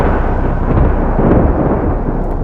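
A thunderstorm sound effect in a horror story gives a continuous, loud, deep rumble of thunder with no voices over it.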